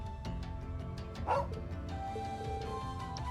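A puppy in the video game Trails of Cold Steel II gives a short yip and a few small barks against game background music, with no talking.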